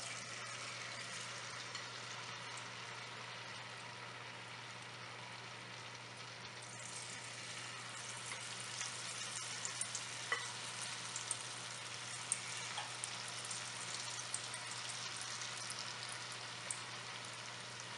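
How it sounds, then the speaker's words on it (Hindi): Cabbage pakoras deep-fry in hot cooking oil over medium heat, a faint continuous fizzing crackle with a few soft pops, steady and even with no voices. "अब हमने बंद गोभी के पकौड़े तल लेने हैं, 1 चमचा भर कर डालते जाएंगे।"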